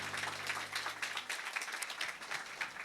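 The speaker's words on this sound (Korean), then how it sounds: "우리 하나님께 영광의 박수 올려드리겠습니다." Faint, distant applause from a church congregation at a Sunday worship service, a soft continuous patter of many hands clapping.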